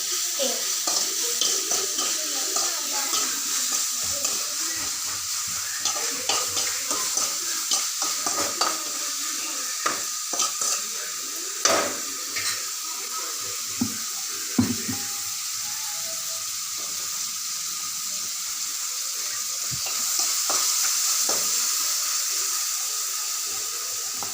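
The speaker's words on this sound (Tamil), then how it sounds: "தக்காளி வதக்கியாச்சு." Tomatoes sauté in a pan for a Tamil thakkali kulambu, giving a soft, steady sizzle with repeated scrapes and knocks of a stirring spoon at close range.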